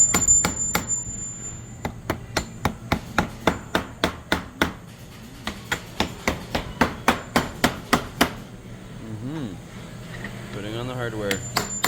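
Hardware being hammered onto a casket in a manufacturing shop: a steady series of sharp metallic hammer blows in quick succession, a short pause, then more strikes, with brief voices near the end.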